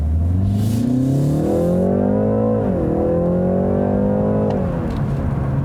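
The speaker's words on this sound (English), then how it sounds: "it accelerates very impressively for a base model 3 Series" A 2019 BMW 330i xDrive, the base-engine 3 Series, accelerates hard in sport mode, its engine note rising steadily through the revs, dipping briefly at a gear change and climbing again, loud and close from inside the cabin.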